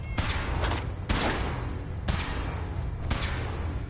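A power armor suit's gun fires in a test in the video game Fallout 4: four loud, booming shots, evenly spaced about a second apart, each with a short rumbling tail.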